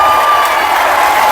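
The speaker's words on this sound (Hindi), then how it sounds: "उधर खड़े हो, ताली बजाओ राजदीप के लिए" A crowd at an election campaign rally in Silchar cheers and applauds for candidate Rajdeep, a loud, steady wash of clapping and voices throughout with no pause.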